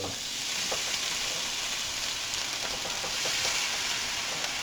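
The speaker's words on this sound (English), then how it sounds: "I just have a good bit of olive oil in here to do the potatoes up" Potatoes fry in a good amount of olive oil in a small pan for Cajun hash browns, giving a steady, bright sizzle with faint crackles and occasional stirring taps throughout.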